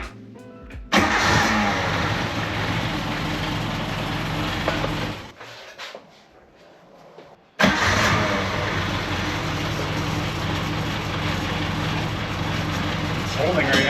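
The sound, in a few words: Suzuki Samurai engine cranking and starting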